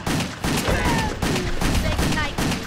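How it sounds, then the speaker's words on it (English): Rapid gunfire from shooting enemies in a video game, loud repeated bursts of shots in quick clusters with brief gaps, mixed with game sounds throughout. "Shoot him all in the face."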